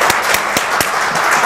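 Forum audience applauding newly arrived ambassadors: loud, close hand claps with a few distinct sharp strikes over a continuous clapping wash.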